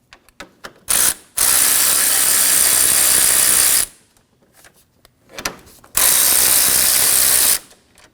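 A ratchet works 10mm bolts loose from a Honda passenger-side cooling fan, with two long, loud, continuous ratcheting runs separated by scattered clicks and taps, close up and free of talk.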